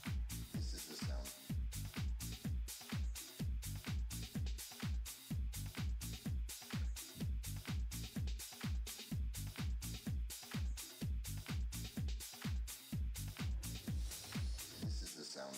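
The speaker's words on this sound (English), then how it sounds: "This is the sound of house music." House music plays throughout with a steady four-on-the-floor kick pulse, deep bass and bright hi-hat and synth layers, loud and continuous with a driving, even rhythm.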